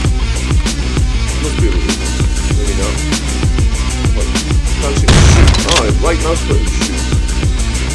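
Gunfire and a heavy explosion blast out a wall in the Wake The Dragon video game, with rapid rhythmic shots running throughout and a loud, dense burst near the middle.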